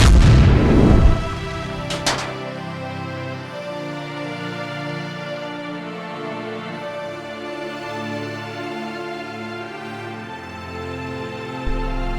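Big boom of an explosion in a CGI animation of a UFO crash at an airbase: a loud, dense blast opens, then a sharp crack follows, and the burst decays into a long ringing, droning tail with no talk.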